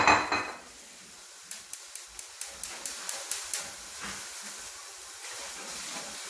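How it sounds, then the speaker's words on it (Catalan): Cuttlefish and tomato sizzle in a frying pan, a steady hiss following a loud initial splash, with a run of evenly spaced metallic taps of a utensil against the pan. "Deixem sofregir una mica la sèpia amb el tomàquet"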